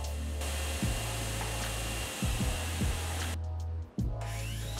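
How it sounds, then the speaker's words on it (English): A power sander shapes a slight angle on the top of a wooden piece for a DIY Bluetooth speaker, a loud steady whine that stops and restarts several times, with brief knocks between bursts. "use this sander to get the slight angle that I want on the top"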